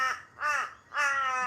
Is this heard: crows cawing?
yes